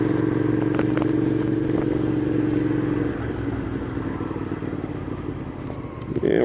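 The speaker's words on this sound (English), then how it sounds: "go out to the garage and grab my motorcycle." A motorcycle engine rumbles at close range, idling with a low throb that drops slightly partway through before picking back up at the end.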